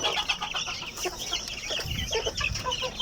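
Brahma chicks cheep and cluck in quick, overlapping peeps, close by, with some rustling beneath.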